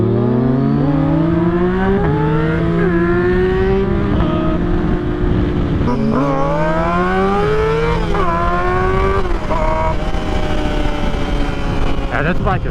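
A Yamaha motorcycle revs hard during a wheelie, its engine pitch climbing and dropping through repeated gear changes, loud and close over constant wind rush.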